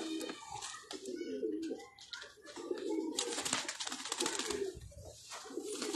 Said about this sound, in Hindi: अब ये कबूतर पहली दफा इधर बाहर पिंजरे में आके अपना